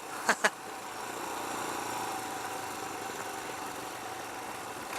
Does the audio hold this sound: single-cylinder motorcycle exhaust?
yes